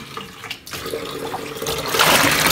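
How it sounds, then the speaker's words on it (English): A bundle of hair is swished in very warm water with shampoo, giving sloshing and splashing that grows busier and louder toward the end, close up with no voices. "Just pick up the bundle, put it into water with shampoo"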